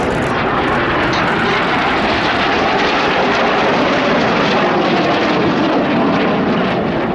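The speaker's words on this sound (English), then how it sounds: "Inside pilots now pitch to the outside as they fly the rollbacks" Royal Air Force Red Arrows jets fly aerobatic rollbacks at an air show in Athens, a loud, unbroken roar of jet engines that fills the whole stretch without a break.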